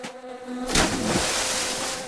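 Bees buzzing in a beehive, a dense droning hum that starts thin and then swells abruptly into a loud, close, continuous swarm buzz.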